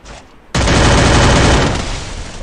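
MP40 submachine gun and shotgun fire in a video game: after a short quiet lead-in, a loud, dense burst of rapid shots starts and roars on steadily to the end.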